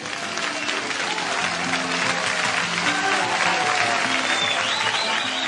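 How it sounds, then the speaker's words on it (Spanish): A crowd at a parish church event breaks into sustained, hearty applause, steady clapping filling the room for several seconds with a few murmurs underneath. "Pido un fuerte aplauso."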